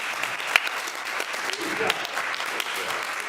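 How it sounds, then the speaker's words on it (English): An audience at a county council and school board candidate forum claps steadily and moderately, a dense patter of hands continuing throughout at mid distance. "Let's give the candidates a round of applause."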